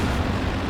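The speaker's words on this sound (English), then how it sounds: "Oh boy, the Calliope!" Rocket barrage from a Calliope launcher in Company of Heroes 2, a dense, loud rumbling blast that fills the whole short moment with no gaps and no talk.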